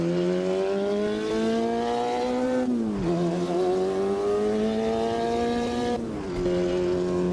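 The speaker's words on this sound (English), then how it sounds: "So this is a four-cylinder car," A four-cylinder 1.5 litre turbocharged BMW race car engine in Automobilista 2 drones loudly, pitch climbing steadily through two gear changes with sharp dips at each shift, close and alone.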